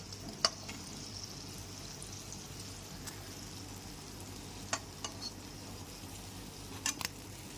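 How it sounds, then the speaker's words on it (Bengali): Palm fruit fritters (taler bora) frying in hot oil, a steady soft bubbling sizzle throughout with a few brief clicks of a utensil, no voices. "লোতে রেখেই সমস্ত বড়াগুলোকে ভেজে নিতে হবে"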